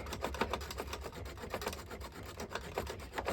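A wooden part of an Artesania Latina 1:84 Santisima Trinidad model ship is trimmed with quick, even rasping strokes close by, without speech.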